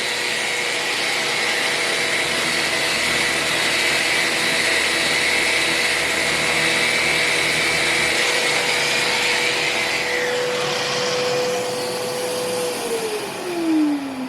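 A power sander fitted with a sanding pad sands wood veneer on antique furniture, whining steadily for over ten seconds, its pitch shifting near the end before winding down as the motor slows.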